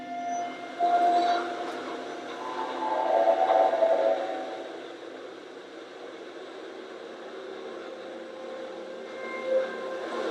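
A train rolls past a railway crossing with a steady rumbling roar and faint high metallic tones, moderately loud and sustained throughout.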